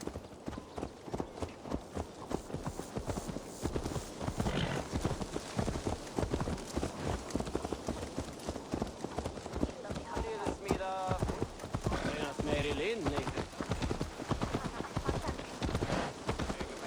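Horse hooves clip-clopping in the video game Assassin's Creed Valhalla, a steady run of hoofbeats heard beneath ongoing talk, with a brief whinny-like sound partway through.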